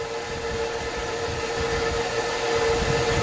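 An electric mixer runs steadily while mixing dog treat dough, a loud, continuous motor whir with a steady hum that builds slightly toward the end.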